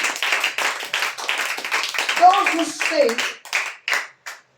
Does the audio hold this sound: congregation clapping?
yes